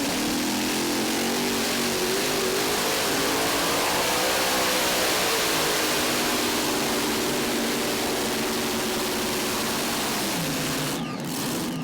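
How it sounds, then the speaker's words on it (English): A modified or unlimited pulling tractor's engine roars loud and steady for several seconds at a tractor pull, swelling slightly, then cuts out abruptly near the end. "one of 2 tractors for the Criswell Benedict team"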